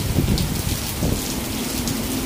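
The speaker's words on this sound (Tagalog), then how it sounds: "Pabugso-bugso yung hangin niya mga kamartes at saka yung ulan." Driving typhoon rain in Macau hisses continuously while strong gusts of wind rumble and surge in waves, loud and close.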